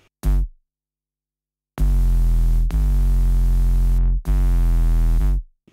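Deep, booming 808 bass notes from a trap beat, layered with high-passed white noise sizzle from the Serum synth; one short hit, then three long sustained notes in sequence, loud and close with gritty high hiss.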